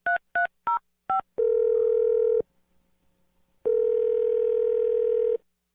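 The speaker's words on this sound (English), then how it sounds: "We're going to dial the number." Four short dialing tones on a telephone, followed by a steady dial-type tone that sounds, pauses into near silence, then sounds again; loud and clean with no voices.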